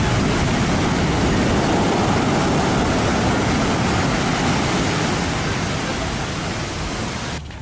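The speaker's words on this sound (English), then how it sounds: "Literally, the waves just don't stop." Ocean waves crash on the shore without pause, a loud, continuous broadband roar of surf that stays steady throughout and fades slightly near the end, with no voices.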